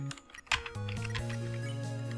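Computer keyboard clicks tap out in a short, irregular burst during a video game session, faint and somewhat distant under steady game music.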